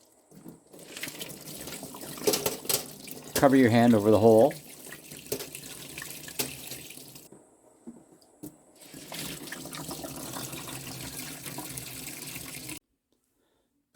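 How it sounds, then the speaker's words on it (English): Water poured out of a rock tumbler barrel, a Lotto vibratory tumbler holding banded iron, splashing and trickling in a brief louder gush among quieter running water, with people talking over it. "So now all we have to do is dump the water out."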